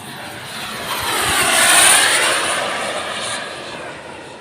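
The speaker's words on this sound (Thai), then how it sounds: "เครื่องบินเจ็ตนี่เป็นเครื่องบินในฝันเลยครับ" A radio-controlled F9F Cougar scale jet model makes a fast flyby, its turbine whine swelling to a loud peak as it passes close, then fading away. No voices.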